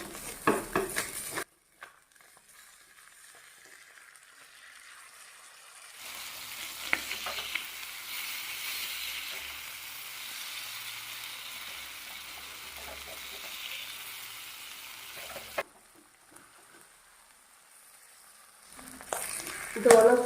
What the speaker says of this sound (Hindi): अब हम इसे पलटकर दूसरी साइड भी पकाएंगे।